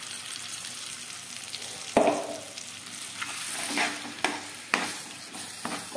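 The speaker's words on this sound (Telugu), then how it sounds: "ఒక 5 మినిట్స్ బాగా ఫ్రై చేసుకోవాలి." Ground bottle gourd and tomato chutney frying in a tempering in a pan, giving a soft steady sizzle with a spatula knock and several clattering stirs, close and quiet, with no one speaking.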